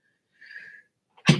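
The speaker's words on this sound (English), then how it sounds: "I've sneezed like fucking 10 times today." A person sneezes once, close and sharp, after a faint thin inhale-like sound, with silence before and between.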